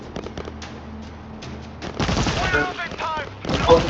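Gunfire in the video game World War Z, shooting against zombies in Marseille: sharp bursts of shots fill the second half, loud and close, with players talking over the action and quieter game noise before the shooting.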